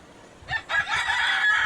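A couple of short clucks from Egyptian Fayoumi laying hens followed by a longer rooster-like call, close by, against a quiet background.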